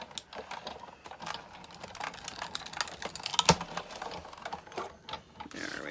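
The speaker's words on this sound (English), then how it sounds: "I'm going to run it through my die cutting machine" Die cutting machine pressing cardstock for a holly and berries card, faint clicking and rattling mechanical crunches in an irregular run, with one sharper snap midway, quiet and close.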